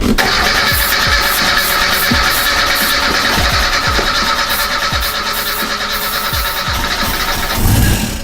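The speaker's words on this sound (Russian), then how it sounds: "и все-таки запустить двигатель" Starter motor cranking repeatedly on a Reliant Robin that may have no fuel reaching the engine, rhythmic whirring turns with a brief rising engine burst near the end, close and loud.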